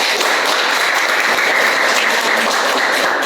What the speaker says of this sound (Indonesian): Boleh tepuk tangan dulu untuk Wildan.